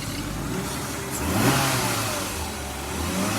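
A 1998 BMW 525i petrol engine running on gas runs steadily and revs up briefly in the middle, a close mid-pitched hum with a slight rise and fall, no voices.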